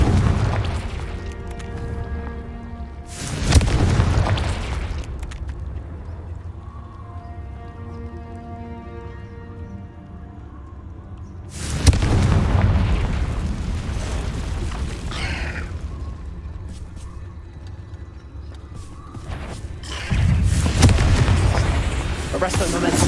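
Three heavy explosions from the Confringo spell in Hogwarts Legacy boom out at intervals, each a loud broadband blast fading into a rumbling tail, with softer game sounds between them.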